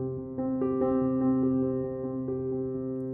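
Easy beginner piano song played at a quicker tempo, a steady run of sustained notes with clear attacks ringing over held lower tones, close and moderately loud with no talking.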